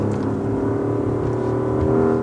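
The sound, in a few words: Porsche Cayenne S 2024 twin-turbo V8 engine roar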